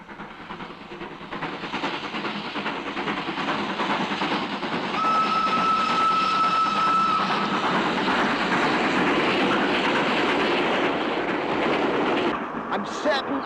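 A train rumbles at a railway station in the 1920s, a loud sustained clatter and roar with a steady tone rising partway through, heard beneath faint talk.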